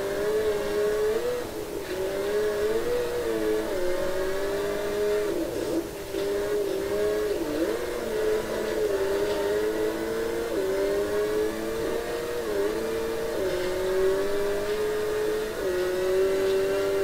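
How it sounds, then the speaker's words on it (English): A rally car engine in Richard Burns Rally drones steadily, its pitch rising and dipping as the car accelerates and shifts, a continuous loud mid-range hum with no voice. "Now Richard is driving."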